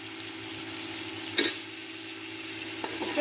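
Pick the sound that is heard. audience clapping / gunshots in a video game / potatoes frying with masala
potatoes frying with masala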